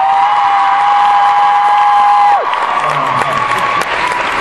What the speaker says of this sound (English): can we have one more cheer for that beautiful couple who just got engaged?